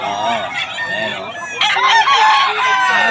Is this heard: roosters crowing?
yes